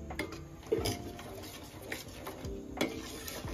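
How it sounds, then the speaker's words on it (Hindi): A spoon stirs sugar into pumpkin kheer in a pot, giving a run of soft scrapes and a few sharper clinks against the metal at an even pace, close by with no voices. "फिर इसे मिक्स करेंगे।"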